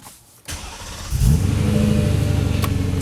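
A BMW M3 engine starts and settles into a throaty, pulsing idle after a brief rev, loud and close with a steady rhythmic burble.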